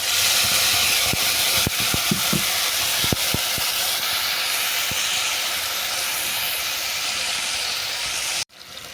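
Grated tomato hits a pan of browned fried potatoes and sets off a loud, steady sizzling hiss with a few sharp crackles early on. The sound cuts off abruptly near the end.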